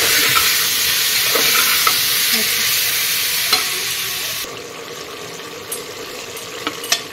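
Vegetables stirred and fried with biryani masala in a pan, a steady close sizzle and hiss running throughout with occasional scraping clinks of the spoon, the frying noise easing somewhat toward the end.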